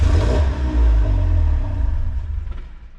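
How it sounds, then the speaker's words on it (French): Cupra 5F with an anti-start map fires up loudly, rumbles and revs briefly, then dies away as it stalls, the engine fading out within about three seconds, close by, no voices. "La voiture démarre, mais elle cale directement"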